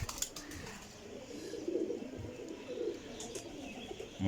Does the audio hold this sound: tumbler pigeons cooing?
yes